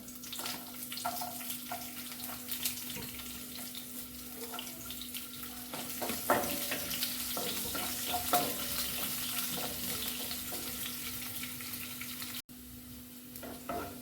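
Finely chopped shallots fry with urad dal in hot oil for a Kerala masala dosa filling, a steady close sizzle with crackles and scraping stirs running throughout, with a brief cut near the end.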